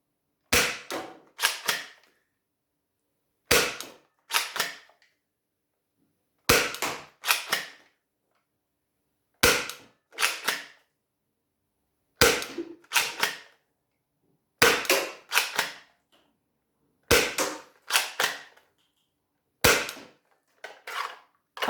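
Gecko dart blaster firing a magazine of Worker Gen 2 foam darts, sharp snappy shots in quick pairs and triplets separated by short pauses, close and clear with no talking.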